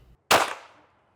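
A single sharp gunshot from an Arex Delta Gen. 2 pistol, loud and close, with a quick attack and a brief decaying echo.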